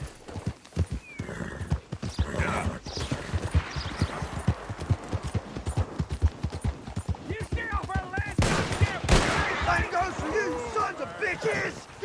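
A horse galloping in the Red Dead Redemption 2 video game, with rapid clip-clop hoofbeats running steadily throughout, a whinny partway through, and bursts of gunfire and shouting voices layered over the ride.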